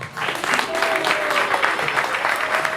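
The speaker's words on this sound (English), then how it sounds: "Let's get a big round of applause for that." Crowd applause at a Rath Yatra anniversary celebration in Kisumu, a steady wash of many hands clapping at close range for nearly three seconds, with a faint voice or tone threading through.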